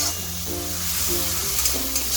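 Spices sizzle in hot oil in a pan of okra and neem as water from rinsing the spice bowl is poured in and stirred, giving a steady close frying hiss with soft scraping.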